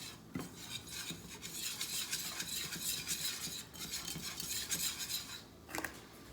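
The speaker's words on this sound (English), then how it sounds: "now I'm going to whisk in 2 tablespoons of flour" Flour, heavy cream and milk are whisked together in a pan on the stove, with a steady scraping, clinking whisk running the whole time and a soft sizzle underneath.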